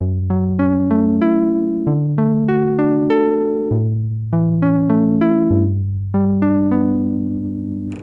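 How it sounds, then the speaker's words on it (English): Multi-sampled Arturia PolyBrute synthesizer preset played on a 1010music Nanobox Tangerine: chords in a slow sequence of sustained, evenly spaced stabs with bright harmonics, each fading before the next; no voices. "So now we multi-sampled the Polybrute and it sounds like this."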